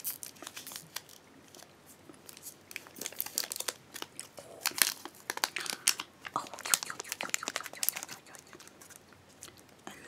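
Ritter Sport chocolate with crackers being eaten up close, with steady crisp crunching, chewing and crinkly wrapper-like crackles spread across the whole stretch, loud and intimate, with no talking.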